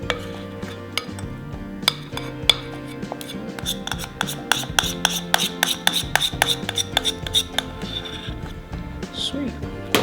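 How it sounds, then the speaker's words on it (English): A spoon scraping carrot-cake frosting from a bowl, rapid clinks and scrapes in quick irregular bursts, close and clear, with faint kitchen background. "I got a spoon so I can get every last bit of this out of here."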